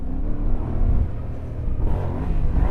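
Yamaha Tenere adventure motorcycle engine revving on an offroad trail before a jump, a continuous loud low rumble that rises and falls with throttle, heard up close with no talk.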